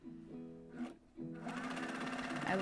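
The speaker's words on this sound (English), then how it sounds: "sewing machines aren't quiet" A sped-up sewing machine stitches the sides of a dress made from bedsheets, rapid mechanical chatter in two bursts with a brief pause between them, fairly close and fairly quiet.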